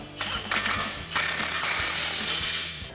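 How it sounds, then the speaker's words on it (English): A 15mm socket ratchet tightens a clamp on a Toyota 4Runner Flowmaster FlowFX cat-back exhaust, giving close, repeated rapid clicking bursts with short pauses, loud and with no talking. "take our 15mm socket to tighten it down"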